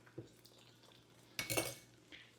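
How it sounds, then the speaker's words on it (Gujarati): A metal ladle normally used for tempering vegetables stirs ginger tea in a pot. A soft clink comes first, then a short close burst of scraping and clattering, then quiet. "ચમચો લઈ લીધો શાક વઘારવાનો."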